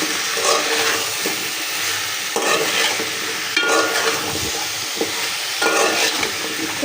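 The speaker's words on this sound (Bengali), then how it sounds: "এখন এটাকে ভালো করে কষাই নেব।" Vegetables coated in turmeric, salt, coriander powder and ginger-garlic paste sauté loudly in a pan, a dense close sizzle with intermittent scraping stirs and occasional clinks of utensil against metal.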